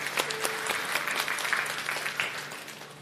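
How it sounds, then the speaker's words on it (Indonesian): A church congregation claps after a sermon, a steady patter of hands at moderate distance that carries evenly for a few seconds with no voices over it. "Beri tepuk tangan."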